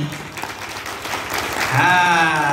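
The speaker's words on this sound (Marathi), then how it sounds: "मग त्या सद्गुरूसाठी एकदा जोरदार टाळ्या झाल्या पाहिजेत का नाही" A religious gathering honoring the Sadguru breaks into applause, the clapping rising from a modest patter to a fuller, louder wash while a voice carries on over it.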